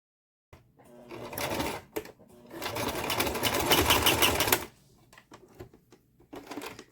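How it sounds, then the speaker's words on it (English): A sewing machine stitches through paper ticket snippets, running in two loud bursts of rapid mechanical clatter with a short pause between, then stopping for softer handling noises. "I want to do a back stitch and then come back."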